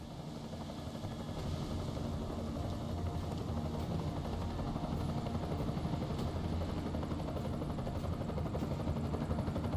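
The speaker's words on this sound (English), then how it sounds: "Enemy helo sighted." An enemy helicopter in the video game Deus Ex Mankind Divided makes a steady, loud rotor drone that swells slightly as it approaches and continues throughout, with no talk over it.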